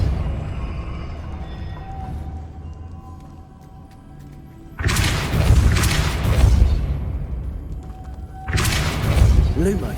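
The Depulso spell cast in the video game Hogwarts Legacy: a heavy booming burst of force that rumbles for a couple of seconds, then a second blast, over low ambient hum.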